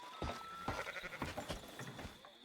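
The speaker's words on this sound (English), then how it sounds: "I think most of these sheep aren't even like really here either." Sheep bleat repeatedly in a roleplay video game, several overlapping calls close by against a steady background hum, with no talking over them.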